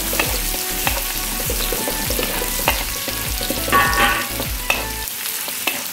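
Garlic and anchovies fry in hot oil in a wok, giving a steady, loud crackling sizzle with rhythmic scraping and clinking as the spatula stirs, all close up before it suddenly cuts off.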